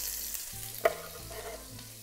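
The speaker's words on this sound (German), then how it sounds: "Jetzt geben wir einfach die Zwiebeln in die heiße Pfanne." Onions hit hot olive oil in a pan and sizzle softly, a faint, steady crackling fry with a small clink near the start, no voices.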